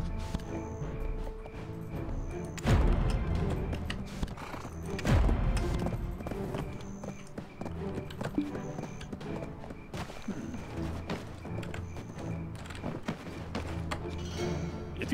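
Hooves clip-clop at a steady walking pace as a donkey is ridden in Black Desert Online, close, even footfalls with a couple of heavier thuds, set against a soft game music bed.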